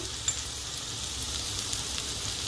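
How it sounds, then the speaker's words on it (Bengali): Sizzling masala for a soybean curry as a little soy sauce goes into the pan, a soft continuous hiss with a faint tap near the start and no talking. "মশলাটা আমার কষা কষা হয়ে আসছে। এবার আমি একটুখানি এর মধ্যে সয়া সস দিচ্ছি।"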